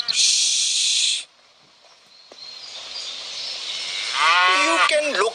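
Cows moo in one long, close bellow that rises and falls near the end, after a loud burst of hiss and a quiet stretch.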